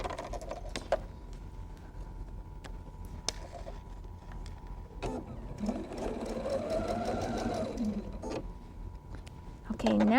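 A sewing machine stitches a quilt block seam for a Wheel of Mystery block, running in a steady mechanical whir with rhythmic needle clatter for a few seconds, with quieter handling clicks around it and a speaking voice nearby.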